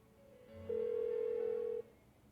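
In the Persona 4 Golden video game, a telephone rings unanswered as one long steady electronic tone, clear and alone over a faint background hum.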